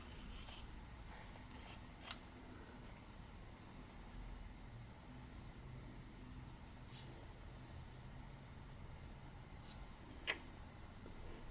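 Scissors cut fabric with a few faint, sparse snips over a quiet background hiss, one of them sharper than the rest.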